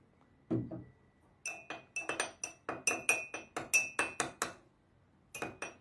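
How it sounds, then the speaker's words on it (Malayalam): A utensil clinking against a glass container while copper acetate and vitamin E are stirred together, a brisk run of bright, ringing taps in steady rhythm, close and fairly quiet, briefly pausing then resuming. "കുറച്ച് കോപ്പർ അസറ്റേറ്റും വൈറ്റമിൻ ഇയും കൂടി നമുക്കൊന്ന് മിക്സ് ചെയ്യാം"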